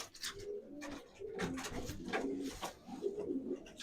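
Soft, throaty cooing from pigeons at a pigeon club show in Nahuievychi, Ukraine, repeats in rolling phrases, close by, with a few faint chirps mixed in and no voices.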